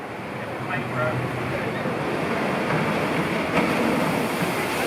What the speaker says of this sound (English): not too much of a splash, just the right amount.